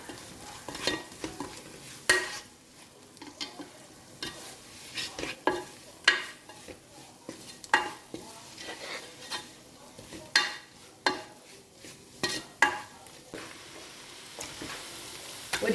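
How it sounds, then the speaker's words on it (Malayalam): Chicken curry masala with turmeric, chili powder, coriander powder and garam masala is sautéed in a pan: sharp spoon scrapes and knocks land in uneven bursts over a faint sizzle, close and quiet, with no voices. "നന്നായിട്ടൊന്ന് വഴറ്റാം."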